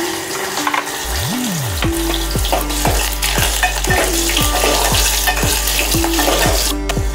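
Green chillies and crushed garlic hit hot oil in a pan, a loud dense sizzle that runs throughout, with regular scraping and clinking of a spoon stirring against the metal and no talking.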